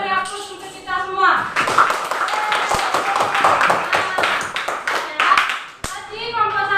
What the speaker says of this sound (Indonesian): coba kita beri aplaus untuk kita semua